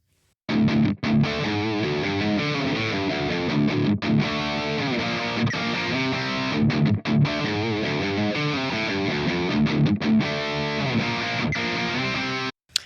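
A dense, distorted electric guitar plays a steady riff with a few brief pauses, loud and up front, with no voices.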